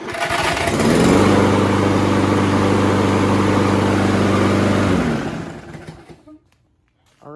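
A Toro lawn mower engine, started with a push button, catches and roars at close range, running steady and loud for several seconds before winding down and stopping, with a faint clatter afterward.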